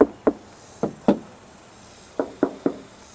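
A car hood without sound-deadening mat knocked by hand gives sharp, hollow raps in two quick clusters, close and fairly quiet, with no talking.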